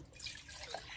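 Water pours into a cooking pot for noodles on a village kitchen stove, a faint, brief splashing trickle with no talk over it.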